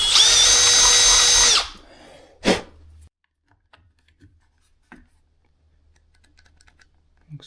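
A power drill bores into an ATV's bodywork, one loud close burst of whirring lasting over a second, followed by a short sharp clunk and then faint handling noises.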